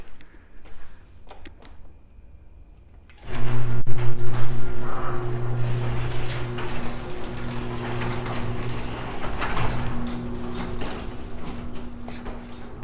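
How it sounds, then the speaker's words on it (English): A residential garage door opener starts up: after a few quiet seconds, a loud mechanical hum and rattle begins and continues steadily as the door moves. "Trying to navigate through the garage and open the garage door."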